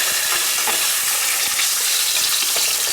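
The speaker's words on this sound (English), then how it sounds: "And we're just going to give it a fry that cooks it through." Salmon pieces frying in hot vegetable oil spread across the bottom of a pan for a stir fry give a loud, steady, close sizzle with fine crackling throughout, and no one speaks.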